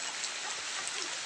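Steady rain falling at night during a visit, a dense continuous hiss of drops with no voices over it.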